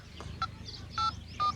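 Three short, steady electronic beeps of a phone keypad dialing a number sound one after another over a low background hum.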